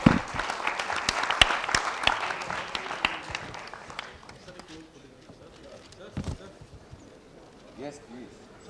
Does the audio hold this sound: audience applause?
yes